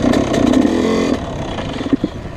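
A Yamaha YZ125 two-stroke dirt bike engine revs up with a buzzy, raspy drone, then drops off to a lower, rougher idle with a couple of brief sputters, close and loud, no voices.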